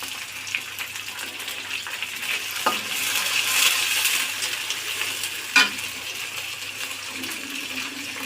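Shrimp and garlic paste fry in a pan for a shrimp and taro lentil dish, a soft steady sizzle broken by a couple of sharp utensil clinks against the pan.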